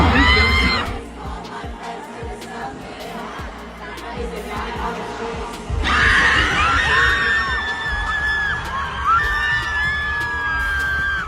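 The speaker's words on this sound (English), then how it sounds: "And the fans screamed with delight." Crowd of fans screaming at a concert in Argentina, loud sustained shrieking and cheering that surges sharply midway and stays intense, with scattered yells throughout.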